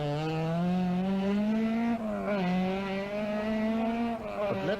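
An Opel Manta rally car screams along a special stage of the 1985 Circuit of Ireland Rally, its engine note holding high and rising and falling through gear changes, loud and close throughout.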